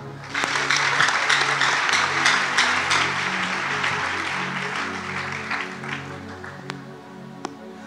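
An audience at a church gathering breaks into applause, a thick burst of clapping mixed with voices and cheers that gradually thins out toward the end, with a few sharp claps standing out.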